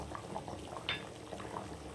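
Mutton curry bubbles in a pot at low volume, a soft, steady simmer with small popping bursts and one faint clink midway.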